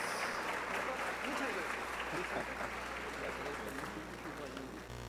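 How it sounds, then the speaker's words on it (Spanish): Audience applause at an academic event for Dentist's Day, a steady wash of clapping from a large room, fairly distant and even, with faint voices underneath, easing off slightly near the end. "Les pido un gran aplauso, por favor."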